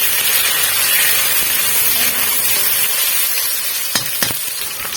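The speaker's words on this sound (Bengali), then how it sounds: "এরপর আমরা সেদ্ধ করে রাখা ছিমের দানাগুলো ভালো করে ভেজে নেব।" Boiled bean seeds fry with garlic in a pan, giving a loud, continuous sizzle and hiss close by, with a couple of brief utensil clicks near the end and no speech.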